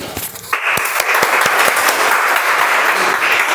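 A meeting audience applauding after a speech, with steady, fairly loud clapping from a small group that starts abruptly and keeps going.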